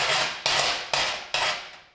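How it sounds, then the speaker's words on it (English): A chipping hammer strikes and scrapes along the edge of a stick weld bead, four sharp metallic hits each trailing into a rasping scrape, close and loud with no talk. "The next step is to chip it off with a chipping hammer and a wire brush."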